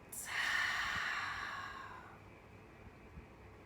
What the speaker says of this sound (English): take a deep breath in and a long breath out